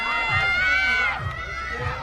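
A home crowd at a compound archery World Cup final in Shanghai cheers and shouts loudly in a sustained roar, with excited voices rising over one another.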